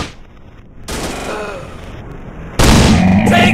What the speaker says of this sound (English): I'm shooting these fools up!